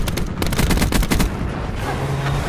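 An ICR-7 assault rifle firing in Black Ops 4, a close, loud burst of rapid automatic shots in quick succession that stops after about a second, followed by quieter game ambience.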